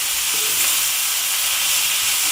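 Butter melting and sizzling in a pan with dried mushrooms, a steady, close, bright frying hiss with no pauses, a few soft stirring scrapes faintly underneath.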